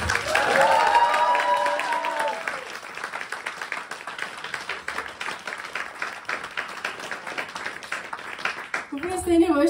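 A concert crowd claps steadily for a band member for several seconds after a brief voice at the start, the applause holding fairly even before a voice returns at the end.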